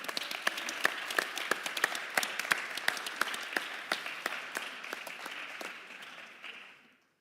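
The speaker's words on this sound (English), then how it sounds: "let's kick it off with a big applause" An audience at a business conference applauds steadily, with individual sharp claps standing out over a dense wash, before the applause fades out at the end.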